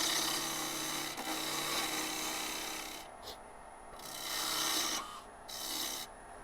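Sharp hollowing tool cutting into a box elder burl on a lathe, a continuous close scraping rasp under the steady hum of the spinning workpiece, with the cut easing and resuming several times.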